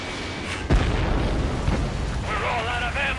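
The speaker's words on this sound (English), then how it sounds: "Missile hit." A missile strikes an aircraft in Ace Combat 7, a sudden loud boom that settles into a rumbling roar of jet noise, with radio voices talking over it toward the end.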